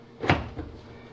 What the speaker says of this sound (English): And this door we lift up,